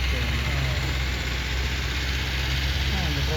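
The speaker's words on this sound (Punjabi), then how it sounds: "ਟਰੈਕਟਰ ਦੇਖੋ ਚੱਲ ਰਿਹਾ" A small tractor engine running on a farm, a steady low idling drone with a constant rumble, close and unchanging throughout.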